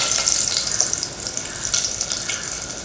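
Cinnamon, cardamom, star anise, cloves and curry leaves fry in hot oil for pepper chicken curry, giving a loud, continuous close sizzle with crackling bursts and no talk.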